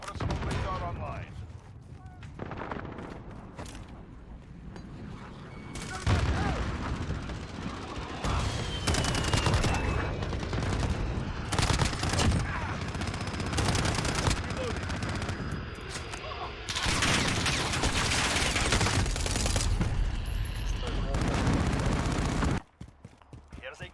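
Striker 45 submachine gun fire in Call of Duty Modern Warfare multiplayer, loud rapid bursts and scattered shots mixed with battle noise, with voices speaking throughout.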